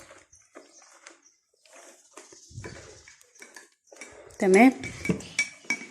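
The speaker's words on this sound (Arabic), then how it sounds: "عايزه تضربيهم مع البيض بايديك عادي، وعايزه تضربيهم في الخلاط اعملي" Eggs beaten by hand in a bowl for homemade ammonia biscuits, heard as a run of close clinking and scraping utensil strokes against the bowl, with a brief voice in between.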